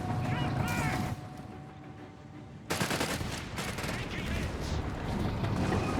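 Bursts of machine gun fire from the Company of Heroes 3 strategy game, rapid rattling volleys mixed with other gunfire and battle noise, stopping briefly before the shooting resumes, with faint talk underneath.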